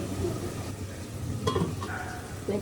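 Luchi flatbread cooks in a pan on a home stove, giving a steady close sizzling crackle throughout with a brief sharper clatter midway and no talking.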